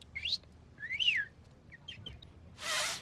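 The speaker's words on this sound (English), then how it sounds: "It's just a bird." A bird calls with a few rising, whistled chirps and short tweets, fairly close and clear over faint background hiss, followed by a brief burst of broadband noise at the end.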